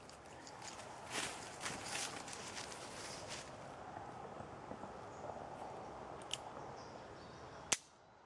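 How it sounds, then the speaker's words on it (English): At a shooting range, a Heritage Rough Rider revolver fires a single sharp, loud crack near the end after several quiet seconds of faint shuffling and movement. "I'm going to be shooting my Rough Rider Heritage, or Heritage Rough Rider"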